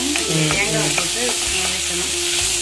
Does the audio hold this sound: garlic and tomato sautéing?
yes